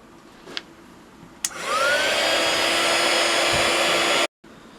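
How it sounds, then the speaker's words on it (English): A heat gun blasts hot air at the jewel insert of a Corgi Porsche toy car. A click starts a loud, steady, close whooshing roar that runs for about three seconds and then cuts off sharply, with no voices. "heat it up with a heat gun and see if they both come out"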